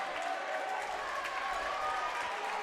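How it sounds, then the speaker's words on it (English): Crowd clapping at a regional championship high school basketball game, Christian Heritage against Kellyville, a steady, dense wash of applause filling the gym with general crowd noise. "But most of them are clapping right now"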